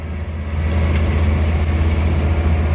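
A sugarcane harvester's diesel engine runs loud and close in a cane field, a deep steady rumble that swells slightly as it revs, with no voices.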